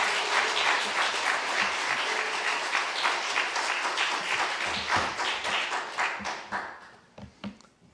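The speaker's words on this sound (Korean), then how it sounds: "박수로 맞아 주시겠습니다" A church congregation applauds in welcome of a guest pastor from Daegu's Seongseo Baptist Church at a pastor's installation service; dense, steady clapping fills the room, then thins to a few scattered claps and dies away.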